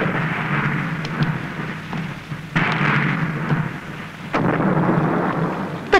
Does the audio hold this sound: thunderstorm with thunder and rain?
yes